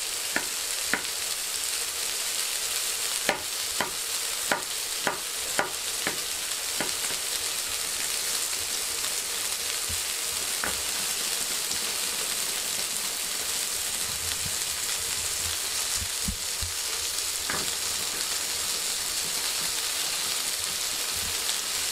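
Onion frying in oil for a large lángos burger, a steady close sizzle with occasional sharp pops and stirring clicks, clustered early and then sparser, with no talk.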